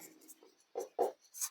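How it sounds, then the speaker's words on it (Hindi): A pen writing out a Class 10 math solution on paper, heard as a few quiet, close scratchy strokes and taps with short pauses between them, with no talking. "अब लिखेंगे यहाँ पर"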